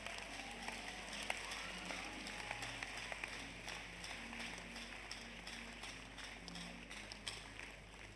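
An audience at a talk claps and applauds, producing a faint, steady wash of scattered hand claps that continues for several seconds with little change in level.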